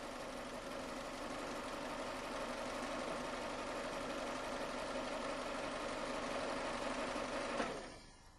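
A Toyota car engine idles steadily with an even mechanical hum and light ticking while the steering wheel is turned lock to lock, then is switched off and winds down near the end.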